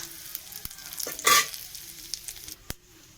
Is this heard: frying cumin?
yes